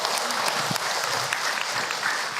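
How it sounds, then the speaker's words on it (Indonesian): A crowd applauds with dense, steady clapping that fills the whole moment at close range. "tepuk tangan buat Hilman"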